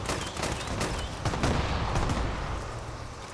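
Sustained rapid gunfire in Fallout 76, loud dense bursts of shots and explosive impacts rolling together for several seconds without a break, no talking over it.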